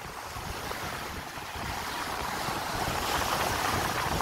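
Sea waves wash onto a beach in a broad, steady roar, swelling louder toward the end, with wind buffeting the microphone and no talk.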